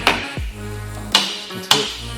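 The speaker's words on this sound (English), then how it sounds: "Just tap, sometimes you can tap on the vise." A stuck bearing from a Scott Bonnar 20-inch Unicorn mower's rear roller is tapped against a vise: three sharp metallic knocks, close and evenly spaced, with faint ringing between them.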